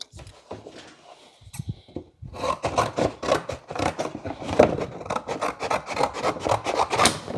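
A panel is cut off on a 1940 Ford-inspired hardtop coupe build. Rhythmic, close rasping strokes repeat rapidly and keep going after a brief quieter start.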